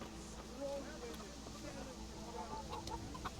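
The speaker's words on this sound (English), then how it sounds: "Chickens." Chickens cluck faintly in a scattered way in the medieval game Kingdom Come Deliverance, set against a low, steady ambient background.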